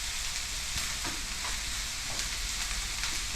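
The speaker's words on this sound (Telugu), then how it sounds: "సన్నగా కోసి కలర్ వచ్చేటట్టు వేపాలన్నమాట" Thinly sliced vegetables fry in a pan for a curry, giving a steady close sizzle with faint stirring scrapes and no talking.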